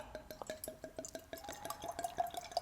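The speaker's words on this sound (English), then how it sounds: "that is a good amount that you should pour when you're pouring a bottle of red wine" Red wine flows from a bottle into a glass in a quiet room, a soft trickling pour with small drips and a faint rising ringing of glass as it fills.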